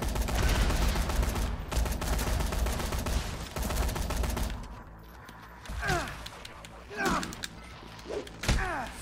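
Rapid assault rifle bursts in Dead Rising 3 crackle densely and loudly for several seconds, then thin into scattered single shots and thuds amid quieter game sounds.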